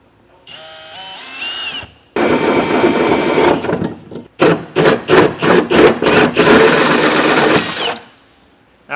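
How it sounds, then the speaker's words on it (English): A 4-inch hole saw with a pilot bit drills through the underbed of a 2019 Chevrolet Silverado, whirring loudly in sustained runs and then in short rhythmic bursts before stopping. "Now we're going to take a 4-inch hole saw with a pilot bit and drill out our hole."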